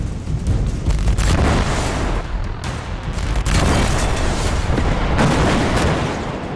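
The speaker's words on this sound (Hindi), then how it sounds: "बाद में कार को कब्जे में लेकर सुरक्षा बलों ने कार समेत विस्फोटक को उड़ा दिया।" A sustained roaring blast with broad rumbling noise, loud and continuous, swelling in waves over several seconds as security forces detonate an explosives-laden car.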